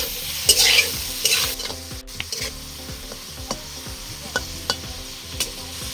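Tomato chutney with salt cooking in a pan, stirred with a spatula: bursts of loud sizzle at first, then a run of regular scraping strokes with sharp clinks against the pan, close up and without voices.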